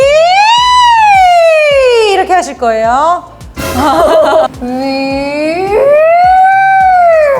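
A voice imitates a wailing siren, sliding up and down in long swoops, broken by a brief laugh in the middle, loud and close.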